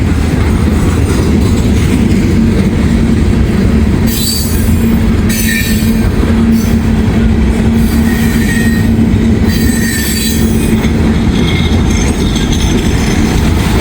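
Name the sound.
freight train passing with squealing wheels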